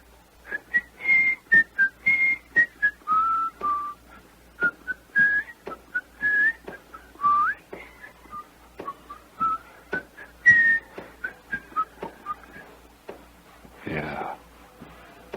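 Someone whistles a wavering melody in short tuneful phrases, close and clear, ending with a brief breathy noise.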